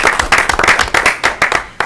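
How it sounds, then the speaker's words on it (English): A school committee meeting audience applauds, the dense clapping close and loud with uneven bursts of hand claps filling the whole stretch. "would you join me in a big round of applause?"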